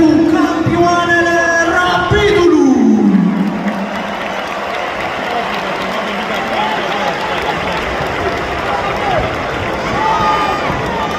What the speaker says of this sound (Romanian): Încă o dată aplauze pentru campioanele